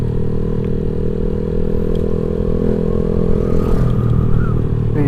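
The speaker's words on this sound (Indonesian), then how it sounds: "Black Devil S2 Suca nih kalau nggak salah knalpotnya cuy" Honda Vario 150 scooter with a Black Devil S2 aftermarket exhaust rumbles steadily at close range during a ride, a deep even drone with slight revving swells and some road clatter.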